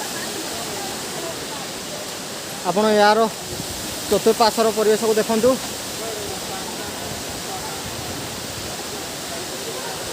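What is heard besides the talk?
Handibhanga waterfall, Keonjhar, water falling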